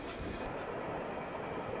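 A CSX freight train, symbol I008, rolls past on a Sunday, a loud, steady rumble of cars and wheels that holds without pause.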